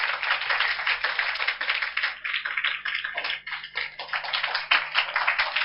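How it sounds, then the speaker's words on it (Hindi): A crowd at a summer camp prize distribution claps steadily for the session leaders, a dense continuous patter of many hands held at an even level throughout. "जिन्होंने आपका सेशन लिया उनके लिए आप तालियां बजा रहे हैं"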